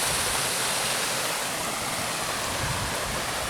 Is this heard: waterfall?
yes